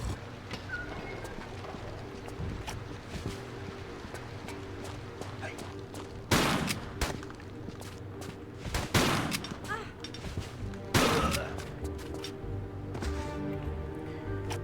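Shotgun blasts in Tomb Raider III's Antarctica level: three loud, separate booms spaced a few seconds apart, standing out over a steady low ambient hum.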